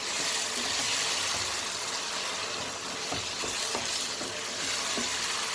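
Hyderabadi chicken curry is stirred in a pan, a dense, continuous frying sizzle with soft scraping and stirring knocks running through it, close and fairly loud.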